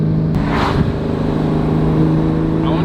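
A Porsche GT4 (981) fitted with a Valvetronic Designs exhaust, a loud, steady low engine rumble with a short rise in pitch, close and continuous throughout.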